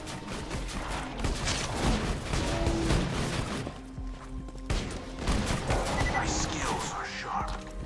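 Gunfire in Borderlands 2 comes as bursts of loud shots and impacts, with crashes and thuds spread across the stretch and a high whine near the end, mixed with game effects.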